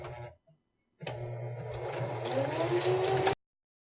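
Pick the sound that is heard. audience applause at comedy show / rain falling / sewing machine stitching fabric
sewing machine stitching fabric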